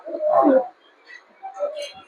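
Fancy and Giribaz pigeons coo softly, with one fuller throaty coo followed by a shorter, quieter pair of calls, and no voices.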